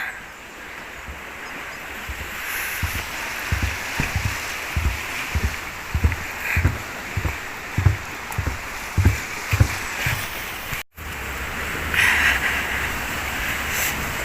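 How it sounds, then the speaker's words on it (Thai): Stream water rushes steadily under a bridge in a village during rain, with a run of regular soft thuds like footsteps in the middle. "อันนี้ก็จะเป็นตรงสะพานเนาะ น้ำไหลพานลงไปเนาะจ้ะ"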